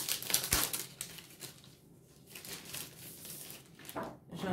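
Plastic-wrapped scrapbooking papers being opened by hand, close crinkling and crackling in uneven bursts, loudest at the start and again near the end, with no one speaking.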